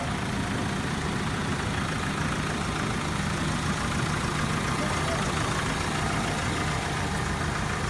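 A truck engine idles in a steady, low, continuous rumble during a driver's walk-around inspection, with no change in pitch or level throughout.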